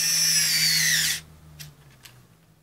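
SKIL powered screwdriver with circuit sensor technology running, a loud high-pitched motor whine for about a second that cuts off abruptly, followed by quiet clicks and handling.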